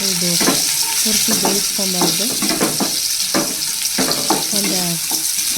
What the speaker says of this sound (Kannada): ನಂತರ ಕ್ಯಾರೆಟ್ ಹಾಕ್ಕೊತ ಇದ್ದೀನಿ ಕ್ಯಾರೆಟ್ ಕೂಡ ಫ್ರೈ ಮಾಡ್ಕೊಂಡು